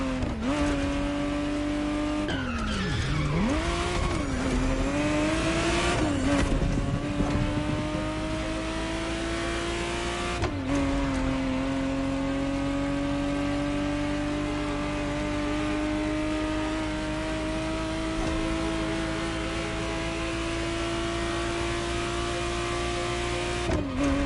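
A 1991 Ferrari Testarossa engine in the Motorfest racing game, revving up and down with a steady whining drone, rising and dipping in pitch, with a tire-squeal-like sweep, close and continuous.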